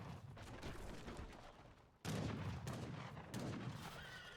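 Artillery fire in an Age of Empires III battle, dense overlapping booms and gunfire bursts, with sharp louder blasts arriving around the midpoint and again shortly after.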